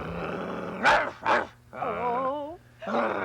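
A person imitates a dog growling, giving two short gruff bursts followed by longer, wavering growl-like vocal sounds, close and fairly loud in an indoor children's television setting.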